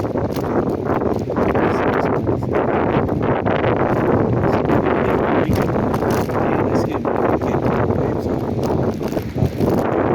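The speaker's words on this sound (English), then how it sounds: "This is bicycle wind." Strong wind buffets the microphone while riding a bicycle along a beach at Fort Myers Beach, Florida, a loud continuous roar with gusty fluctuations and faint surf beneath it.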